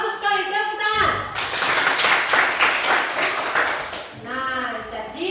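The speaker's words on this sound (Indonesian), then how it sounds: "Bagus sekali, tepuk tangan." A classroom bursts into applause for several seconds, dense clapping from many hands, with a teacher's voice before and after it.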